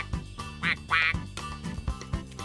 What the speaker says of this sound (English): Why's your phone quacking?